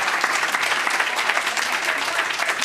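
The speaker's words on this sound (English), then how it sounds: "please a round of applause for our scientists" Audience at a NASA InSight Mars landing team panel applauding the scientists, with steady, dense clapping throughout, close and loud with no pauses.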